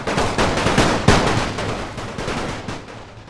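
Rapid gunfire in The Great War mod with Austro-Hungarian forces: a dense series of sharp rifle and machine-gun reports, one especially loud close shot near the middle, the rest rattling on at varying distances.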